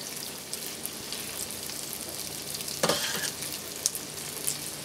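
Bofrot dough balls, a Ghanaian puff-puff, frying in hot oil with a steady soft sizzle and crackle, a brief louder burst near the middle as a big piece of dough drops in, no voices.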